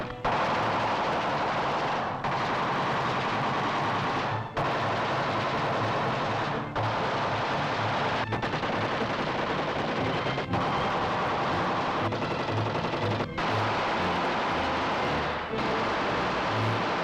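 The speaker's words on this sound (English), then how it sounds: "Now 600 shots a minute." A 1930s machine gun fires 600 rounds a minute in a steady, loud, rapid stream of shots, broken by a few brief pauses between bursts.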